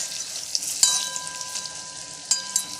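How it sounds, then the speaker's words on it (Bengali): Biulir dal pakoras frying in oil, a continuous close sizzle with a few sharper pops and crackles breaking through, no talking. "এবার দেখো খুব ভালো করে আমার ভাজা হয়ে গেছে, দেখতে পাচ্ছ, বেশ লাল লাল করে ভেজে নিয়েছি"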